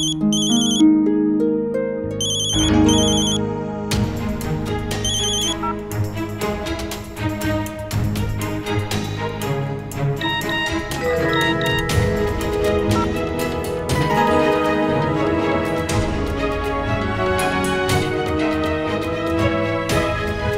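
A phone ringtone plays loud and alone, a bright chiming melody that starts in a few short bursts and then carries on as a continuous jingly tune for about twenty seconds.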